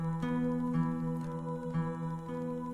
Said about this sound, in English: So that's the static that you're hearing in the background.